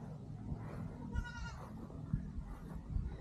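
Several goats bleat at a goat ranch in Patalan, Paniki, Tarlac, with short wavering cries in the middle and faint rustling and thumps outdoors around them.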